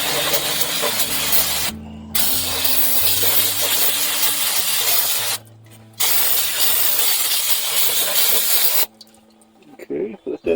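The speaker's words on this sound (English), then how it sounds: "Now we're going to take some old Riley's brake cleaner" Brake cleaner hisses loudly from an aerosol can onto car brakes in long sustained bursts with brief gaps, close up, and fades into faint clatter at the end.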